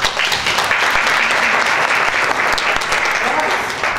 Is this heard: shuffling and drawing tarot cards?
no